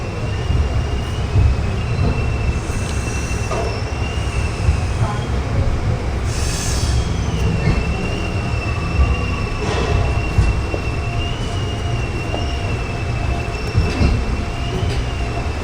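Train 14720, the Amritsar–Bikaner Superfast Express, runs on its rails with a loud, continuous rolling rumble heard from on board. Faint clacks and occasional high wheel squeals rise over the steady roar throughout.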